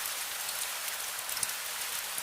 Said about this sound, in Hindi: करीब 15 मिनट बाद बारिश धीरे धीरे कम होने लगी